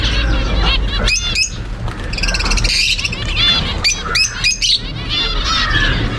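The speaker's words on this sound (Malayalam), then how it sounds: "ഓ ഈ കിളിയാണ് നോക്കിയാ." A bird calls in bursts of chirps and squawks amid the busy hum of Ooty market, loud and close over a steady crowd din.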